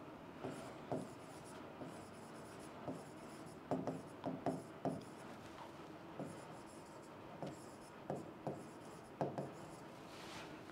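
Marker or chalk writing on a board during a finance lecture, a series of short scratchy strokes in bursts across the span, fairly close, with a few faint traces of speech in the background.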